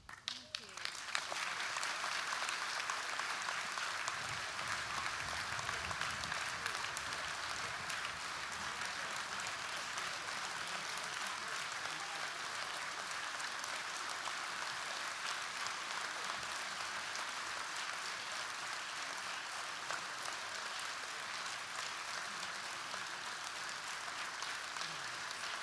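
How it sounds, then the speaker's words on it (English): Sustained applause from a graduation ceremony audience in a hall, dense and steady for about twenty-five seconds after the presentation of graduating students. "I don't know why you're clapping"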